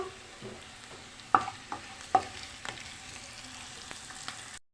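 Turmeric and curry leaves frying in a pan for tomato dal give a soft, steady sizzle, with a few sharp spoon clinks against the pan, close and fairly quiet, with no voices.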